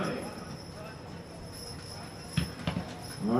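A Percheron draft horse team pulling a carriage at a draft horse show, hooves thudding in a few scattered near steps under an announcer's commentary.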